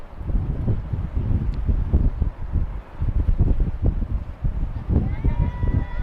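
Hard wind gusts sweep across a baseball field, a constant low roar and buffeting against the microphone that swells and dips in uneven surges.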